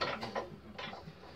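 Metal clicks of a bench vise being tightened on a small-diameter pipe for a metal art piece, two or three short ratcheting bursts close up, then a pause before a final clatter.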